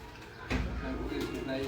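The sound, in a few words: pigeons cooing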